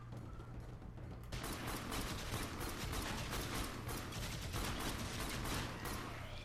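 A pistol fires in the video game Warframe, a rapid run of sharp, dense shots that starts abruptly after a quieter hum and continues steadily, loud and close.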